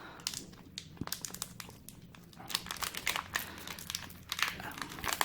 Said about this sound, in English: Jack Link's pepper steak bar. Ooh, didn't tear that one too well.